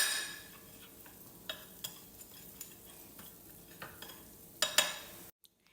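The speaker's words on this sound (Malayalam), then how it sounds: "ഇനി ഇത് നല്ലോണം മിക്സ് ചെയ്യാം" Chili flakes and black pepper are stirred into garlic-butter loaded fries in a pan, a quiet continuous sizzle broken by soft scraping and tapping strokes of a utensil, ending abruptly in near silence.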